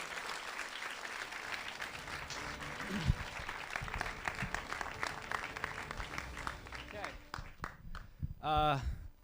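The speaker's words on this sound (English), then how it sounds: "can we all please have a round of applause for everyone who's been involved?" An audience at an evening awards event applauds loudly, sustained clapping with some cheering that thins out toward the end, when a voice speaks briefly.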